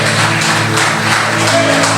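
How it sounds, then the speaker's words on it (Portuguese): Church congregation applauding during a sermon, a loud, continuous wash of many hands clapping at once, steady throughout with a low sustained tone underneath. "Pode aplaudir Jesus."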